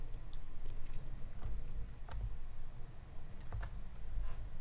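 Keys tap sparsely on a computer keyboard while entering a user ID in a database IDE, a few light, close clicks over a steady low hum.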